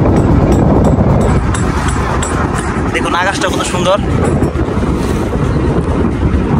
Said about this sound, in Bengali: প্রচুর বাতাস এখানে।